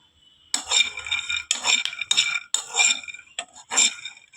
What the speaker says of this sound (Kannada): ಶೇಂಗಾನ ಇಷ್ಟು ಹುರ್ಕೊಂಡಿದ್ದೀವಿ